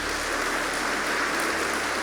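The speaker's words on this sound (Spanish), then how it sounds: "Denle un aplauso a Jesucristo" Steady crowd applause fills a church, a dense even patter of many hands clapping throughout, sustained and moderately loud with no pauses.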